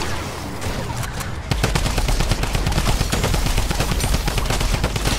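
Fortnite game gunfire during a horde assault mode: after a short quieter lead-in, sustained rapid automatic fire erupts and continues loud and dense to the end, with no talk.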